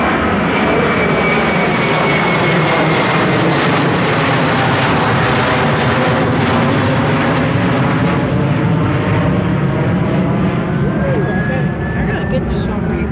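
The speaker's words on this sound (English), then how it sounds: "Horizon 2299, runway 34 right, cleared for takeoff" Loud, sustained roar of an airliner taking off from runway 34 right at Seattle-Tacoma airport, a dense broadband engine rumble with a rising turbine whine, heard close and continuous while a radio voice talks underneath.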